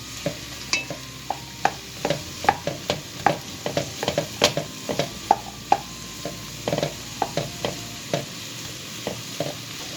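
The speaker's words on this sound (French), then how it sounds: "J'ajoute mes pommes de terre, ce sont des petites pommes de terre coupées en petits cubes." Small diced potatoes cooking with onion in a pan: a steady low sizzle broken by regular sharp clicks and scrapes of stirring, close up and with no talking.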